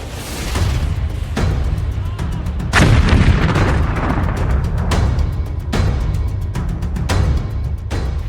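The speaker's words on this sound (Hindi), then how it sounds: "इजरायल और हिजबुल्लाह के बीच मिसाइल वार।" Missile and artillery fire between Israel and Hezbollah on the Lebanon front: repeated heavy booms and blasts follow one another in quick succession, loud and sustained.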